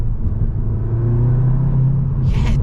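A 2023 Cupra Leon in Cupra drive mode accelerates hard, heard from inside the cabin as a loud, steady, rising engine rumble with a brief hiss near the end.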